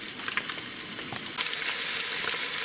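Beef rouladen browning in a hot pan give off a steady, dense sizzle and crackle of frying with scattered pops, moderately loud and close, with no talking.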